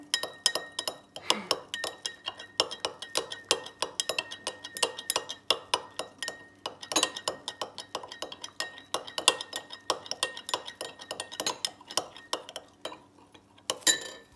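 A metal spoon stirs a honey-coloured mixture of household products and red cabbage, clinking close and irregularly against a glass or dish, with quick rattling scrapes throughout.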